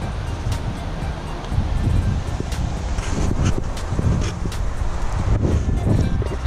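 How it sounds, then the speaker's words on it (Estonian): Gusty wind buffets the microphone with rumbling bursts, steady and loud throughout, with faint rustling in the background. "siin on niuke tuul"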